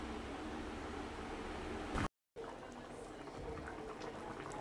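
Gravy simmering in a covered pan over a medium flame gives a faint, steady bubbling hiss, broken by a short moment of silence midway, with no talking.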